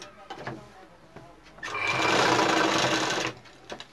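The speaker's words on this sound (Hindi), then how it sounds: "सिलाई भी बराबर परफेक्ट कॉर्नर के हिसाब से लगाएंगे।" A sewing machine stitches a men's kurta in a steady, close whir lasting under two seconds, framed by quieter handling noises before and after.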